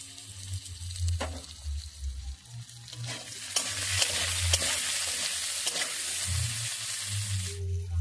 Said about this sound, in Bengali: ওই কড়াইতে কিছুটা পরিমাণ সরিষার তেল দিয়ে আলুগুলোকে নুন হলুদ দিয়ে হালকা করে ভেজে নেব।